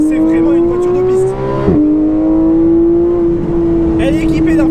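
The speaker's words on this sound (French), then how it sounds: "t'entends énormément d'éléments mécaniques en mouvement" Porsche 991.1 GT3 with its 3.8-litre naturally aspirated flat-six: a loud, high engine note climbs, dips briefly as it shifts, then rises again, with mechanical whirring underneath.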